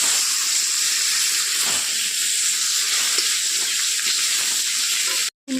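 Spices with ginger and cumin paste sizzle in hot oil in a home kitchen, a loud, steady frying hiss that continues without a break before cutting out abruptly at the end.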